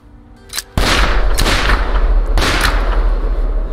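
Loud gunshots in The Quarry video game: a sharp blast followed by sustained heavy booming fire with a couple of further strong reports, dense and close, with no talking.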